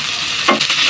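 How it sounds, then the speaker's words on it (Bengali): Onions and chopped green chillies fry in oil for dal, a brief loud sizzle with one stirring scrape in the middle. "পেঁয়াজগুলো ভাজা হয়ে গেছে"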